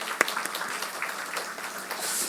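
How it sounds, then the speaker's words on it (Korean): A church congregation applauds in welcome, a brief burst of scattered clapping that sounds moderately distant and fills the hall. "환영의 박수 한번 보내겠습니다"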